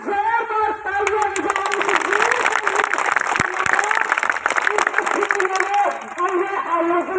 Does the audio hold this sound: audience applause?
yes